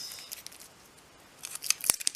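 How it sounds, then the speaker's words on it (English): A few crisp scissor snips cutting resin, quiet at first and then a quicker cluster of sharp cuts near the end, close and alone. "You just cut it all off with your scissors."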